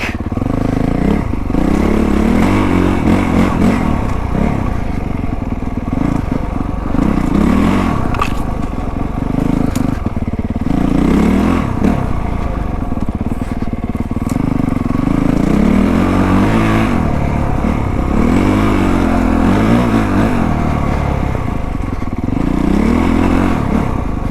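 A 2025 Honda CRF450R Works Edition dirt bike rides a slick, snowy, tight trail, its engine loud and close, rising and falling in repeated revving bursts with scraping and clattering from the bike throughout.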